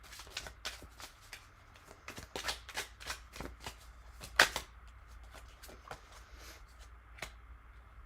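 Oracle cards shuffled by hand during a tarot reading, a steady run of quick papery riffles and soft slaps across the whole stretch, with one sharper snap near the middle, close and fairly quiet with no voices.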